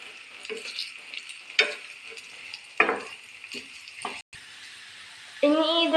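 Chopped onions fry in a pan for an egg roast, giving a soft steady sizzle broken by several scraping stirs of a spoon, close and moderately loud, with a brief voice near the end.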